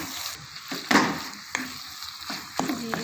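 Minced meat keema fries in masala in a pan, a continuous sizzle broken by several scraping stirs from a spatula, close and moderately loud, with no talk.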